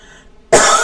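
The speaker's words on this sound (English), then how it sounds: "I'm going to have a coughing fit" A person breaks into a harsh, loud cough close to the mic after a near-silent pause, the start of a coughing fit.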